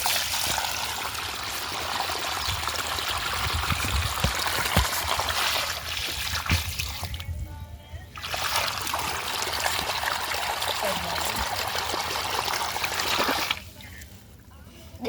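Water drains out of a fish tank through a pipe with a steady, close rushing trickle that runs for most of the span, with two brief breaks, under faint background voices.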